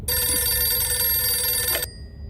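A telephone bell rings once, a loud, close, continuous metallic trill lasting under two seconds, then cuts off into near silence.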